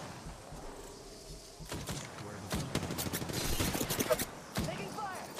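Gunfire in the video game Apex Legends, sharp bursts of shots and rapid fire crackling near and loud over a steady game background, with voices speaking in between.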